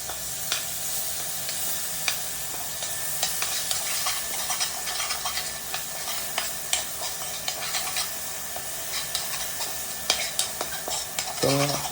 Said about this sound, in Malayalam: സോ ജസ്റ്റ് നല്ലോണം ഇളക്കി കൊടുക്കുക